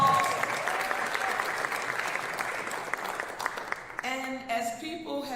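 An audience at a Philadelphia children and family services event breaks into a sustained round of applause that fills most of the stretch, then gives way to a speaking voice near the end.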